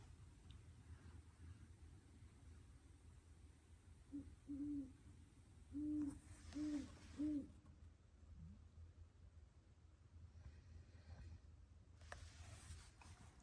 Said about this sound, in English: This is what it sounds like when a great horned owl lands on your tent.